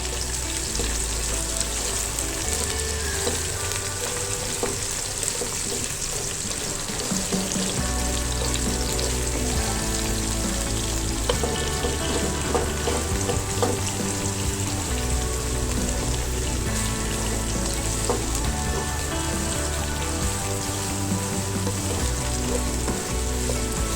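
Onions fry in a karahi for a chicken karahi dish, giving a steady, close sizzle and crackle with occasional stirring that goes on evenly throughout, with no talking.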